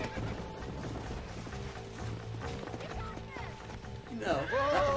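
Horse in the Red Dead Redemption video game, with hooves clip-clopping and a brief whinny near the end, set against game music and ambience while people talk over it.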